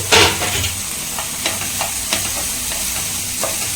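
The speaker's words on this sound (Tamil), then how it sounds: "தக்காளி வந்து கொஞ்சம் வதங்கட்டும்." Chopped tomato sautéing with onions in a pan for potato masala samosa filling, a steady close sizzle broken by several sharp spatula scrapes and taps.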